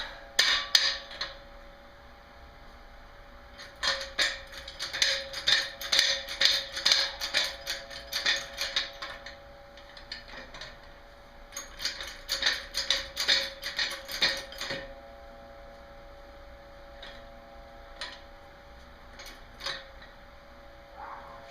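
Car jack raising an Audi for axle and CV boot work, heard as rapid metallic clicking and ratcheting in repeated bursts with short pauses, fairly close and alone.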